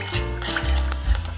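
Roasted vegetables being tossed and mixed with olive oil, black pepper and salt in a bowl, a close, steady scraping and clinking of utensil against dish for about a second and a half, with no talking.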